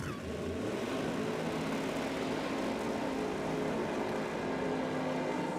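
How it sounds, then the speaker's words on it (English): A 959 cubic inch nitrous drag racing car engine at a nitro championship evening session, heard as a distant, steady broadband roar that holds evenly throughout. "every bit of noise you're hearing is coming from Barry's 959 cubic inch."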